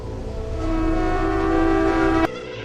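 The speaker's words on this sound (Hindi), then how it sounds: "अचानक दूर से ट्रेन की सीटी की आवाज सुनाई दी।" A long, steady train whistle sounds from a distance, holding one tone for about two seconds before cutting off abruptly.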